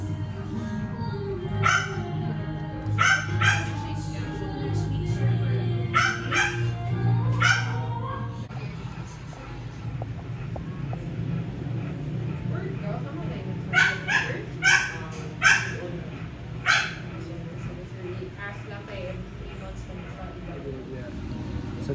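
A dog in the Philippines barks, yelps and whimpers in short repeated bursts while having its nails clipped during a makeover and checkup, with people talking nearby throughout.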